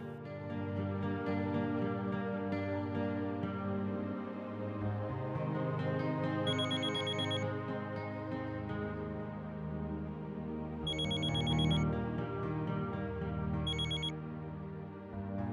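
A phone rings in a Hindi TV drama household, the ring tone chiming in short repeated bursts over steady background music, with no talking.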